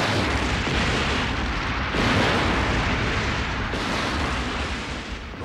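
Explosives planted throughout a building going off in the Guyver anime series, a continuous loud roar of blasts with surging bursts near two and four seconds.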